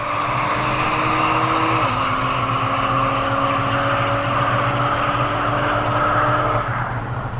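An Audi SQ5 accelerates through a quarter-mile drag run, its engine droning loud and close with a rising tone that dips briefly at a gear change before climbing again, continuous with no voices.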